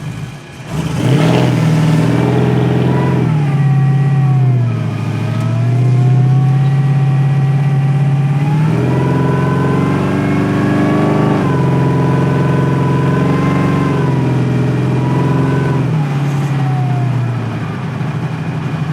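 A 1962 Chevrolet Impala with a 1,000+ hp engine, air bag suspension and 24-inch wheels, cruising on the road: a loud, steady low engine drone heard from inside the car, with a couple of gentle swells and dips as the throttle changes.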